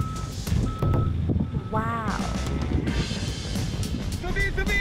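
Reversing beeps from a 1-ton box truck maneuvering during a real-car football game, a few beep tones heard over engine rumble with excited commentary talking throughout.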